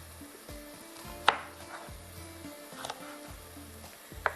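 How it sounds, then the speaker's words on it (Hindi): Capsicum is chopped into pieces with a knife on a cutting board, a few sharp separate knocks spaced irregularly amid quiet kitchen background, with no voices. "इसको निकाल कर फिर इसको टुकड़ों में कटिंग करते हैं"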